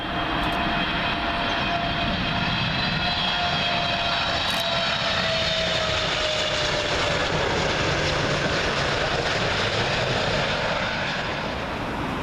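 Airliner inbound from Doha on final approach to Heathrow runway 27L, a loud steady jet engine roar with a whining tone sustained throughout as it passes close overhead.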